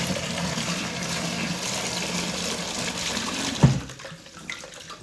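Liquid, sanitizer for a homebrew beer setup, pouring steadily into a plastic brewing bucket, a close continuous splashing rush that stops abruptly near the end, leaving only faint drips.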